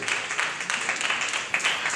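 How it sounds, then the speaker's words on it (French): Audience applause at a West African agri-food business conference in a large hall, a dense, steady clatter of many hands filling the whole two seconds with no voices over it. "Est-ce qu'on peut applaudir encore plus fort"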